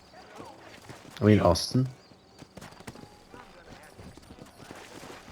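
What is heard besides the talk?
horse hooves in video game Red Dead Redemption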